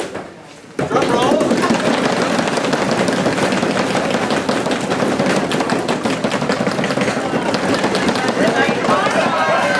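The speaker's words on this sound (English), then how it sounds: "drum roll." A crowd at a startup competition awards event launches into a loud, rapid drumming patter that starts abruptly after a brief quieter moment and keeps going steadily, with a few voices shouting over it.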